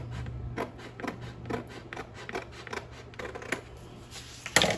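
Scissors snip through craft material for a cupcake basket, a series of quick, faint cuts with a louder crisp snip at the end, against a low steady hum.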